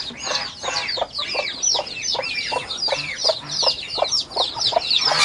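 A hen clucks steadily among her chicks, nearby and fairly loud, with the chicks cheeping in quick repeated bursts throughout while the hen sits with them on a cold day.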